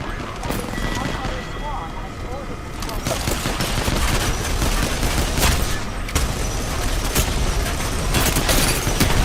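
Rapid automatic gunfire from a machine gun in the video game Apex Legends, loud and sustained throughout as a dense rattling burst over game sounds, with voice chat talking over it.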